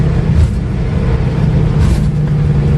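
A 1969 Chevrolet Camaro Pro-Touring with an LS2 V8 drives at speed, its steady loud engine drone and road rumble continuous and close from inside the cabin.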